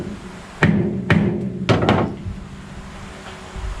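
A hammer strikes a rusted screw on a Plymouth Duster Mopar A-body to break it loose, giving three sharp, close metallic taps in an uneven rhythm, the last a quick double hit, over a low steady hum.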